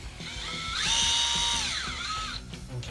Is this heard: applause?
no